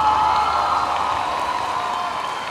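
A concert crowd at the Red Bull Jukebox stage in KüçükÇiftlik Park keeps up a broad, steady wash of applause that fades slightly over a few seconds.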